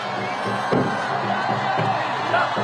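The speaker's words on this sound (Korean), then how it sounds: "시민 여러분 큰 박수와 함성으로 우리 김문수 후보를 함께 해주십시오" Crowd cheering and clapping at an outdoor Korean presidential campaign rally for a People Power Party candidate, a steady roar of voices with scattered shouts and whoops.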